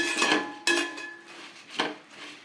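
Puffed paddy rice is roasted in a metal pan for Karthigai Deepam pori balls. Three loud metallic scraping strokes stir it at a brisk, uneven pace, each fading into a softer rustle.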